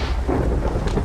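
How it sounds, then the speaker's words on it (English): A lightning bolt strikes in Minecraft, a loud, close rumbling thunder crack with a sustained low roar and a faint rain-like hiss, no voices. "in vanilla you will see a lightning bolt come striking down"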